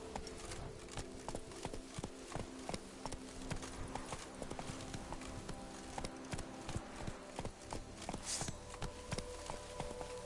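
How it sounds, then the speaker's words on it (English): Hooves clip-clop at a steady gallop as a horse runs in the video game The Witcher 3, a quiet continuous rhythm of hoofbeats with faint background sounds. "Move it! Run, Roach."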